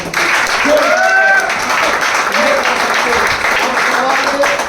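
An audience at a direct selling network marketing event claps together, a continuous loud clatter of many hands, while a voice and whistling tones sound over it.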